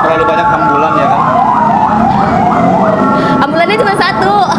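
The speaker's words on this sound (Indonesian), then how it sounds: "Terlalu banyak ambulan ya kan." An ambulance siren wails on a busy street, its rising and falling tone repeating steadily and loudly, with traffic rumble underneath and faint voices in the background.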